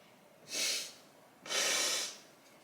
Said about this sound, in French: Je renifle.